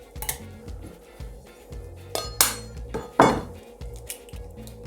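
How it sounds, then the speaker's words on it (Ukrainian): Eggs cracked and their yolks separated from the whites in a home kitchen, with several sharp shell taps and clinks against a bowl, then brief scraping and dish clatter, close and unaccompanied by talk. "Тепер мені потрібно відділити жовток від білка."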